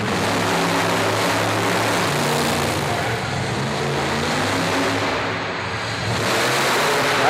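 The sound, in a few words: Bigfoot monster truck engine during competition run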